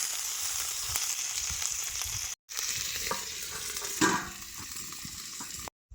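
Giant freshwater prawn paturi, wrapped in leaves, frying in a hot wok in a village kitchen: a steady, loud sizzle with scraping stirs and two brief silent gaps, and no talking.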